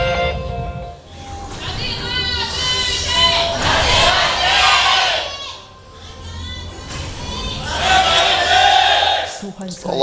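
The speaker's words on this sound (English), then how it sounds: "A lot of cheers for Anarchy." Stadium crowd cheering loudly at a League of Legends LCK Summer 2015 esports match for team Anarchy against Najin e-mFire, two big swelling waves of roaring applause and shouts with a brief dip between.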